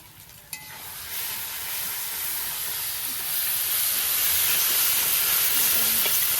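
Spices with turmeric, salt and Kashmiri chilli powder fry in a pan for a jackfruit biryani, giving a steady, close sizzle and hiss that builds slightly and holds, with no talking.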